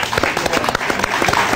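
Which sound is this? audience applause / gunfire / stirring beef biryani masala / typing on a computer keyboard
audience applause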